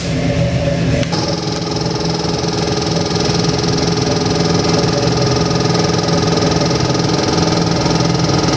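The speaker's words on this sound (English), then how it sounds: "you got your idling down real nice" A supercharged 8-71 blown 502-cubic-inch big-block Chevrolet V8 idles loudly and steadily with a deep, even rumble, after a brief shift in tone near the start.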